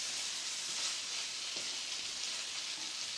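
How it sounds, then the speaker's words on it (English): Fish simmers in cream in a pan with a soft, steady sizzle and bubbling hiss, close and even throughout, with no talk. "we're going to cook that for a couple of minutes, just to sort of lightly cook the fish through"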